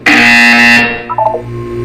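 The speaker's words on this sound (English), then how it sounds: "You will hear a buzzer." A loud, sustained electronic buzzer from Portal 2 blares alone for nearly a second, then cuts off into a few softer chiming tones over a low hum.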